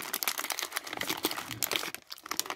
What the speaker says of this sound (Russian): Вскрываем упаковочку.